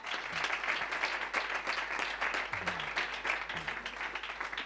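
Audience applause for a performer at an acoustic concert, a steady dense wash of clapping at moderate level throughout, with a few low murmured voices underneath.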